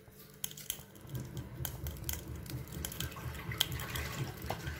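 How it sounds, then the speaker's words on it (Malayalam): Coconut oil trickling into the hollows of a hot unniyappam pan, a soft liquid pour with light dripping and faint sizzle, steady and close, no talking. "നമുക്ക് ഓരോ കുഴിയിലേക്കും കുറേശ്ശെ വെളിച്ചെണ്ണ ഒഴിച്ചു കൊടുക്കാം."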